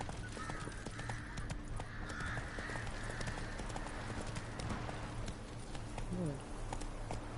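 A horse trots in The Witcher 3, with a steady clip-clop of hooves over outdoor ambience and distant bird caws, while a person talks quietly over part of it.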